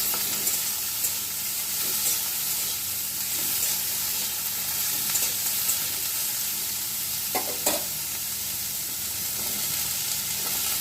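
Pointed gourd, green chilies and carrot stir-fry in a hot pan, a steady close sizzle with occasional scraping stirs, no voices.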